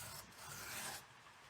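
A blade drawn across dry sandpaper makes a short, faint, close-up rasping stroke that swells and fades in about a second.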